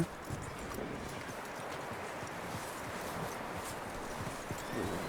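Horse hooves clopping in Red Dead Redemption 2, a steady rapid run of hoofbeats over a dense background, heard alone.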